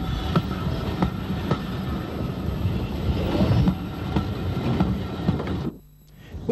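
A narrow gauge train in Ireland arriving from Drummond rumbles and clatters steadily nearby, wheels rattling on the rails, before the noise suddenly drops away near the end.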